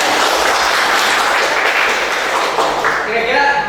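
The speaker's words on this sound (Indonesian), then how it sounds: "kita berikan aplaus dulu" A classroom of students applauds, a dense, loud wash of clapping that fades toward the end as a voice starts speaking.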